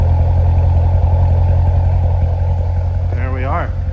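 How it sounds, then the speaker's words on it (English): A 2017 Chevrolet Corvette Grand Sport's exhaust idles steadily and loud, a deep, throaty, low, pulsing rumble, with a brief rising whine near the end. "Love the rumble to the exhaust."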